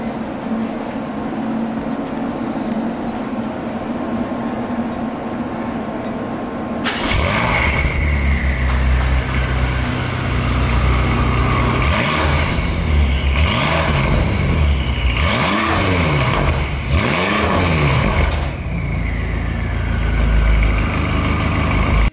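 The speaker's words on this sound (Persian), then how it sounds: "بچه‌ها بریم که صدای این ماشین رو بشنویم" A car engine starts up after a steady hum, then idles roughly and is revved several times, each rev rising and falling loudly nearby.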